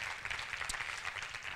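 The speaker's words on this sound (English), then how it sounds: "How about a big round of applause for all of our help today" Faint applause from a salon hair-colour demonstration audience, a soft steady patter of clapping heard at a distance.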